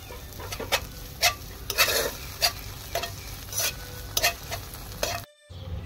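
Spoon scraping and stirring through a thick mayonnaise mixture in a pan, a series of distinct close strokes over a light sizzle, ending in a brief drop to silence.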